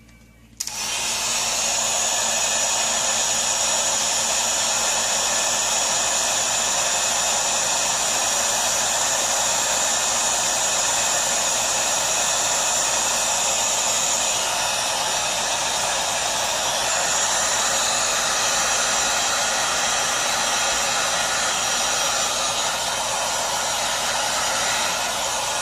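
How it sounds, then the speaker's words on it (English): A heat gun blows continuously close by, a steady loud hiss and motor whine that starts abruptly and holds for the whole stretch, used for heat-shrinking a crimped lug. "I'd rather use a heat gun."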